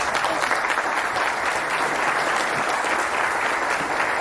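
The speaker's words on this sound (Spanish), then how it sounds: "vamos a recibirlo con un fuerte aplauso" An audience gives a strong round of applause to welcome a lecturer at a talk on fiscal reform, dense steady clapping filling the room without a break.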